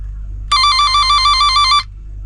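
A smart tester with short and open finder gives a steady high electronic beeping tone, close and clear, lasting just over a second above a low background hum.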